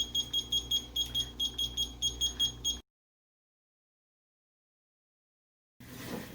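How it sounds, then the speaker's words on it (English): A kitchen timer alarm sounds rapid, high-pitched electronic beeps in a steady rhythm for a few seconds, then stops abruptly into silence before faint background noise returns. "So the alarm has gone off."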